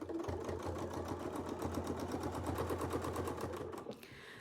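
A sewing machine stitches quilting fabric guided by a Westalee quilting ruler, a fast, even mechanical patter running steadily up close before slowing and stopping near the end.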